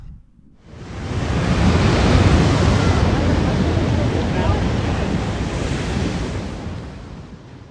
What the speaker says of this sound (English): cue the ocean